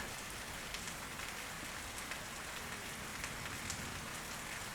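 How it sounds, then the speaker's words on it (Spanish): Rain falls steadily, a dense, even hiss of drops spattering on surfaces, soft and continuous throughout with no voices. "De hecho, está lloviendo mientras hablo"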